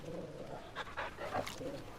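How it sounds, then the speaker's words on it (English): A dog pants close up in Final Fantasy XVI, with quick rhythmic breaths and a few soft whimpering notes and no talk. "Trying to pet the dog."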